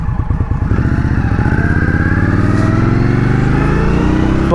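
An Indian Scout Bobber motorcycle engine is heard while riding near Chevreuse, a loud, steady, close V-twin drone with a rapid pulsing throb that holds throughout without talk.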